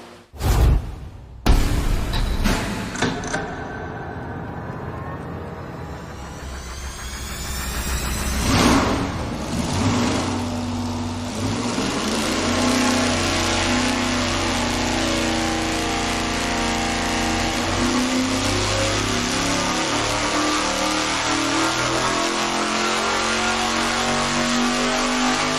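A carbureted car engine on a dyno makes a full pull from 3,500 to 6,500 rpm. A sharp burst and roar rise into a climbing, howling rev that holds a loud, steady high-rpm drone.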